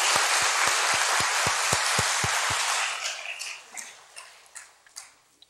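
A church congregation at its 32nd anniversary service claps in thanks and glory to God: a run of evenly spaced, rhythmic claps under a wash of applause that tapers off into a few scattered claps.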